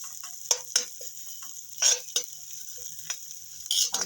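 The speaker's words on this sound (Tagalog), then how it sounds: "Mix na rin yung ating sibuyas. Ayan, tagisa lang." Onion sautés with garlic in a home-kitchen pan: a soft background sizzle broken by sharp, irregular stirring scrapes and clinks of a utensil against the pan, close-up with no talking.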